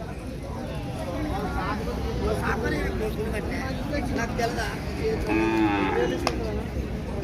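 Cows low nearby with deep, drawn-out moos at the Saturday cattle market in Pebbair, while a general murmur of people talking carries on underneath.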